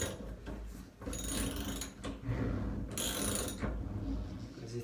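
A wrench ratcheting as it tightens a Hansgrohe Axor faucet cartridge, giving close, uneven metallic clicks and scraping in short bursts over about five seconds.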